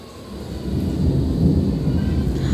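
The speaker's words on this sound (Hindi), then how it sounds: "आवाज़ सुन रहे हैं बादलों की आप लोग?" Deep rolling thunder rumbles through steady rain, building in loudness and holding as a long continuous roar with a soft hiss of rainfall underneath.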